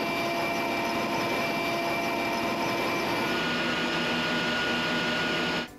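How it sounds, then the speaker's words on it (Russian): A specially equipped Mi-8 helicopter readies for takeoff with a loud, steady turbine whine and a droning hum. The noise holds evenly, then cuts off abruptly at the end. "К вылету готовится специально оборудованный вертолет Ми-8."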